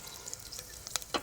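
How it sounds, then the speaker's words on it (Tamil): Mustard seeds and fenugreek sizzle in hot oil, with faint crackles and a few sharper pops in a short, quiet burst. "இதில் அந்த மாதிரி எதுவும் இல்லாமல் வெறும் கடுகும் நம்ம வெந்தயம் மட்டும் சேர்த்துக்க போகிறோம்."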